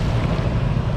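Fast floodwater rushes along Jalan Benua Anyar in Banjarmasin as it overflows from the Martapura River, a loud, steady broadband roar with no break, heard up close.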